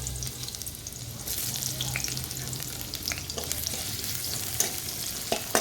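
Chopped onion frying in oil in a pan for Burmese greens, a steady close sizzle with occasional scraping stirs and light clinks, no talking.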